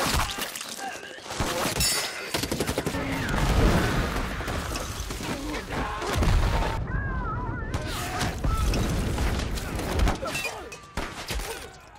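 Soldiers exchange gunfire in a chaotic battle scene from the film Hacksaw Ridge, a dense jumble of shots, crashes, thuds and booms that rises and falls, briefly drops out, then resumes.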